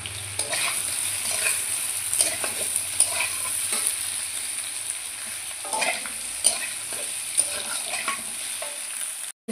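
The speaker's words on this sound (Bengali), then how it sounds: "আলুটাকে একটু ভেজে নেব" Boiled potatoes fry in a pan, giving a loud, constant hiss of sizzling oil broken by occasional scrapes and knocks as they are stirred, with no talking.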